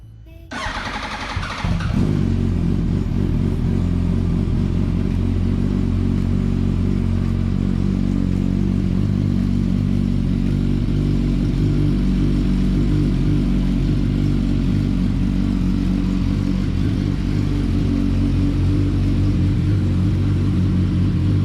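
A Yamaha R1 sport motorcycle running on E85 fuel with a newly installed Quantum fuel pump cranks and fires up, then settles into a loud, steady, rumbling idle that continues close by for a long stretch.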